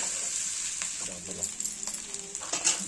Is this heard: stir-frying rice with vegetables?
yes